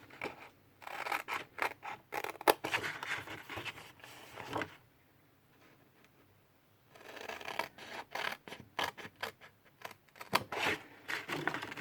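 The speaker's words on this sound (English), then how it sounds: "we're going to cut up to the first score line all of these score lines here" Scissors cut designer series paper along score lines for a simple gift box, a close run of quick crisp snips and paper rustles, with a quiet pause in the middle before snipping resumes.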